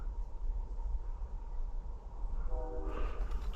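A train rumbles past outdoors in the countryside with a deep steady roar, and a horn sounds briefly near the end, with no one speaking.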